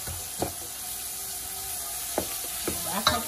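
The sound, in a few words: brown stew fish sauce sizzling while stirred with a spoon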